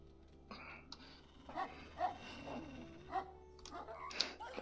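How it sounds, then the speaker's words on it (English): Dogs barking and yipping in the wolf-simulation video game WolfQuest, several short mid-level barks scattered over steady ambient game background, with some soft speech-like sounds. "Oh, we have some dogs."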